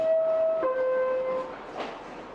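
New York subway train riding near Bowling Green station, a steady rumbling car interior with a sustained tonal whine that drops in pitch partway through, then a fading hiss.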